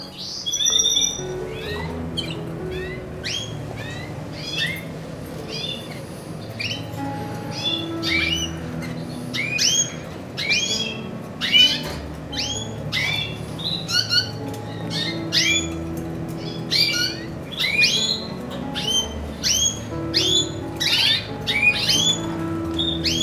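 Bakiri canaries at a first pairing chirp and twitter, with a female among them, in rapid, busy bursts of high calls over low background noise, close and continuous throughout with no talk.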